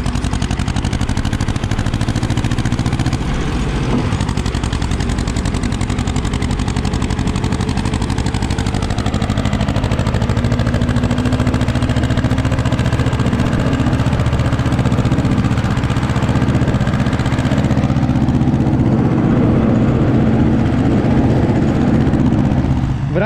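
Ursus C-330 tractor engine running steadily with a STARK 175 flail mower working in a field, a loud continuous low rumble and mechanical clatter throughout, alone without talk.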